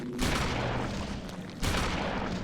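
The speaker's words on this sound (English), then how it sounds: "I have a shotgun." Two heavy shotgun blasts boom out in a horror video game, the first at the start and a second about a second and a half later, each followed by a loud, dense rumbling burst.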